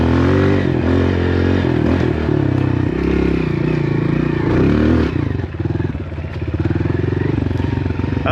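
A dirt bike engine runs loud and close throughout, revving steadily with rattling and clattering while riding, easing briefly toward the end before picking back up.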